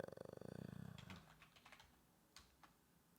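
Keyboard typing inside a Sprinter van, quiet and close: a burst of rapid rhythmic clicks at first, then scattered individual keystrokes with pauses, no talk.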